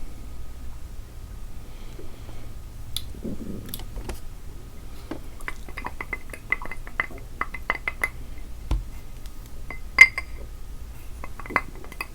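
Ice cubes clinking against a drinking glass, with scattered sharp, bright taps close by, mostly faint but a few crisp louder clinks near the end.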